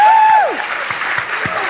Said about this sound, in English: All right, let's give another round of applause